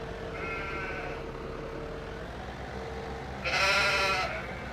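Sheep in Farming Simulator 17 bleat close by, a short wavering call followed later by a louder, brighter one, over a steady low background hum.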